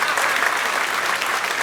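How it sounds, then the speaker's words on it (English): Loud, dense applause from a studio audience greeting the hosts of a car show, sustained and even throughout with no break. "Why are you applauding?"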